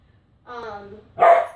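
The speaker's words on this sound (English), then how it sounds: "barking and acting up, so I'm just ignoring her right now." A dog barks for attention in two short, close bursts: a tonal, whiny yelp followed by a harsher, louder bark, with quiet before and between.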